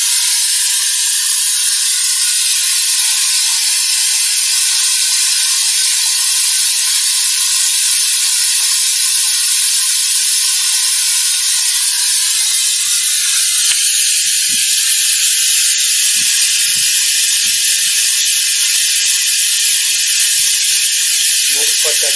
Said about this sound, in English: it does pull a vacuum on the cooling system